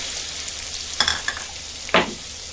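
Onions sprinkled with salt fry in a pan after curry leaves go in, a soft continuous sizzle with two sharp stirring scrapes close by.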